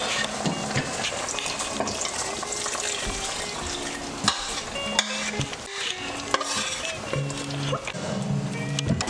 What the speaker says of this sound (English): So now we're going to add the rest of the marinade.